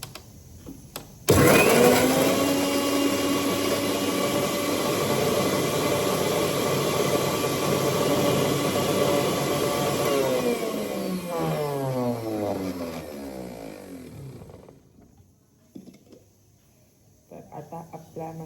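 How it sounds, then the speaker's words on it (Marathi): A kitchen mixer grinder grinds green chillies, garlic and salt, a loud steady motor whir for about thirteen seconds that then winds down and falls quiet, with a few small knocks afterward. "मी मिक्सरला हिरवी मिरची, लसूण आणि हे सगळं ग्राइंड करून घेते."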